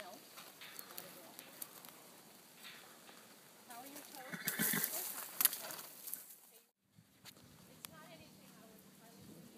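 Horses during a riding lesson, with faint hoof thuds and movement in an open arena alongside quiet background noise and a brief louder rustle, while people talk in the distance.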